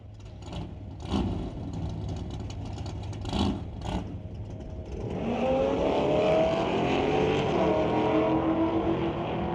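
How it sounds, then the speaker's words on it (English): Drag race between a 5-liter Mustang GT and an S10: faint distant crowd and engine noise give way to a loud, sustained roar as the cars launch and accelerate hard down the strip. "bring up Steve Baskerville once again with that 5-liter Mustang GT going up against Richard Love for Reflections Guest House and SS Motorsports S10"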